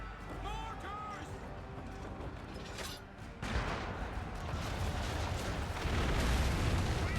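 Mortar fire and explosions boom in a naval battle video game, with a sudden heavy blast followed by sustained rumbling impacts and debris; a voice and game chatter sound early on beneath the noise.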